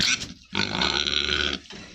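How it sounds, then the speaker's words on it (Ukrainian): A pig kept in a cage grunts and snorts close by, one loud drawn-out grunt lasting about a second after a short snort, then quiet breathing. "Не рохкай мені, не рохкай."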